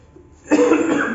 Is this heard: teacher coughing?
yes